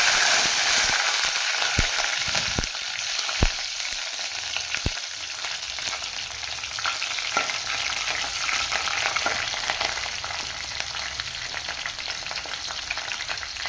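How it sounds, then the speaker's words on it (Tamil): Onion and curry leaves fry in hot oil alongside already spluttered mustard seeds, giving a continuous close sizzle with a few sharp pops early on, then settling into an even hiss with no voices. "கடுகு பொரிஞ்சிருச்சு, நம்ம வெங்காயமும் கருவேப்பிலையும் போட்டுக்கலாம்."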